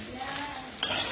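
Rice being stir-fried in a pan for fried rice, with a soft continuous scraping and sizzle, then a brighter metallic clink of a utensil against the pan near the end, close and fairly quiet.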